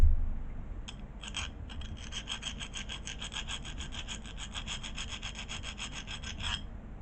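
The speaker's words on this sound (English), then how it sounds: "So then take our file and we'll smooth this out." A fine file rasps across the cut needle posts of lapel pins, smoothing the rough ends; rapid, evenly spaced strokes run steadily for several seconds, close and fairly loud, with no talking.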